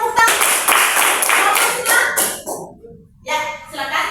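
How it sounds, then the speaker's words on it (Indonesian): A classroom of pupils claps together on the teacher's cue, with loud rhythmic bursts of hands for a couple of seconds. A brief pause follows, then children's voices speak. "Oke, tepuk tangan."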